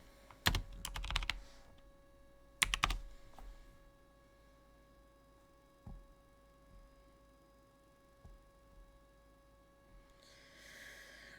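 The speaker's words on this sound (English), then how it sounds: "I wonder if I type in 90s with it." Typing on an old 1990s computer keyboard: two short flurries of loud, sharp key clacks up close, followed by a few isolated taps spread over a quiet room hum.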